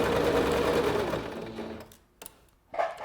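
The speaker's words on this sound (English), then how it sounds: "So I'll sew forward a few, backwards a few, and then keep going all the way down to the bottom." A Singer SewMate 5400 sewing machine runs a back stitch on a zipper, its rapid motor whir loud at first and then slowing and stopping, followed by two brief bursts of stitching.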